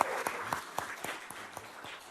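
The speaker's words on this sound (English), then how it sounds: "Give her a round of applause." Applause from the audience at a West Covina city council meeting honouring a champion: a short stretch of steady clapping from a modest crowd, heard alone at moderate volume.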